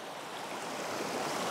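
River water flowing steadily past fallen trees on an autumn bank, a continuous broadband rush that stays even and fairly close throughout with no voices.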